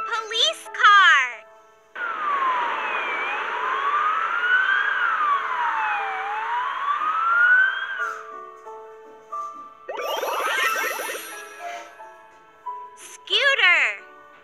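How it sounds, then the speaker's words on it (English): A police car siren wails in a smooth rising and falling sweep for several seconds, loud and steady, with a voice calling out briefly before and after it. "Police car!"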